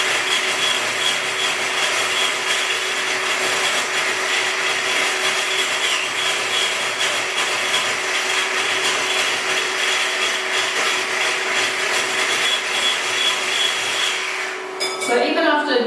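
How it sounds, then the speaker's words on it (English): An electric whisk beats cream toward firm peaks, giving a loud, steady mechanical whirring buzz that runs continuously and close up before cutting out near the end. "So even after 30 seconds, 45 seconds of beating with my electric whisk, I already have something that's fairly firm"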